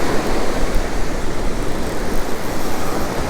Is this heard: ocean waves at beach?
yes